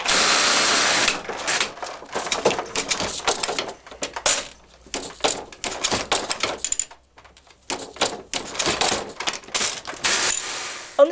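A framework knitting machine with a second row of needles for lacy patterns runs alone in uneven bursts of rapid mechanical clatter and clicking, pausing briefly around the middle before resuming.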